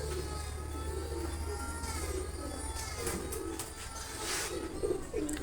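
Pigeons cooing steadily in a loft, heard as repeated low, throaty coos overlapping close by, with a low background hum.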